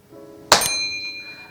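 A single bright metallic ding sounds once, sharp and moderately loud, then rings out briefly into quiet.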